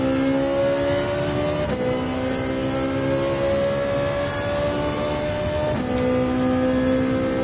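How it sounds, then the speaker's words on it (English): Ferrari flat-plane crank V8 in Gran Turismo 7, a loud, steady high-pitched engine wail climbing through the revs, broken by two quick gear shifts, heard from close with no talk. "Flat plane crank V8 doing its thing"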